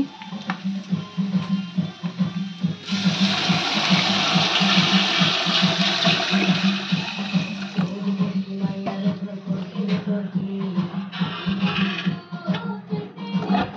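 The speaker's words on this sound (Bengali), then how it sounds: "এখন আমি দিয়ে দেব গরম পানি।" Hot water poured into a pot of lightly fried onions and ginger-garlic paste for korma pulao, a steady close gush and splash lasting several seconds over a low continuous hum.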